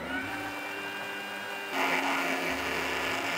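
A kitchen mixer grinder whirs steadily, blending green chillies, ginger, pink salt and water. The pitch shifts partway through as the load changes.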